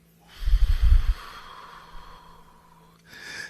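One deep breath is exhaled up close during a guided breathing exercise: a short snorting intake, then a long, airy release that slowly fades, with a brief rustle at the end.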